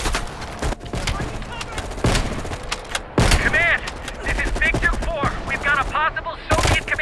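Gunfire in the Call of Duty Black Ops Cold War campaign comes as sharp, loud shots and rapid bursts that start and stop across the scene, with voices speaking between and over them.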